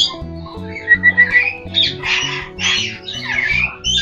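A pair of red lory parrots gives loud, harsh squawks in quick repeated bursts, close by, over a steady background of tonal music or hum.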